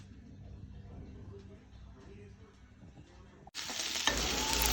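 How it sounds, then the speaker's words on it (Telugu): Onions frying in a pan for paneer curry gravy: soft sizzling and stirring under a speaking voice, then a sudden jump to a loud, dense, hissing sizzle near the end. "గ్రేవీ కోసం ఆనియన్స్ వేయించా"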